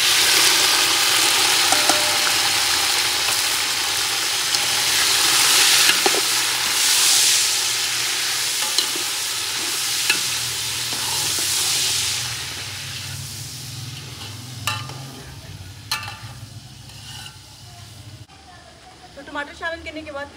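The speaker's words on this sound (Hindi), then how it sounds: "तो टमाटर शामिल करने के बाद तकरीबन आपने इसको 2 मिनट तक फ्राई कर लेना है घी में।" Tomatoes frying in ghee for pulao, a broad hissing sizzle that is loud at first and then eases, with clinks of a utensil and someone speaking over it.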